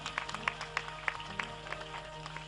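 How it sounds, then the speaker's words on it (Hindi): An audience at a Devi Bhagwat katha gathering claps faintly in a loose, rhythmic pattern of sharp hand claps over a low background hum. "उनके लिए जोरदार धन्यवाद की ताली।"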